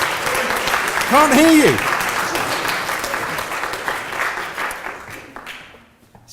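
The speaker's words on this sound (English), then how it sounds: "ladies and gentlemen, please give a big hand" An indoor audience at a GLAM digital showcase gives steady, dense applause that keeps going throughout and slowly fades toward the end, with a voice briefly speaking over the clapping.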